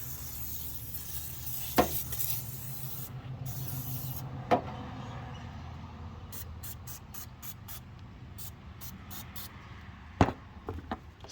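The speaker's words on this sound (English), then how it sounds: "spray all that good stuff and let it sit" A run of quick, hissing spritzes from a spray bottle, several bursts in a row over a low, steady background hiss.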